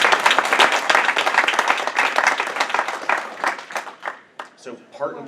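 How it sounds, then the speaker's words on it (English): Audience applause and clapping at a Valiant 4001AD panel during SC ComicCon 2016, a dense crowd burst that thins into scattered claps and dies away, with a voice speaking over the tail end. "Can we have a big round of applause?"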